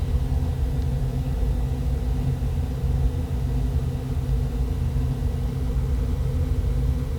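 A Beechcraft Bonanza piston engine at half throttle in Microsoft Flight Simulator 2024, a steady, even propeller drone and rumble that holds constant throughout with no talk.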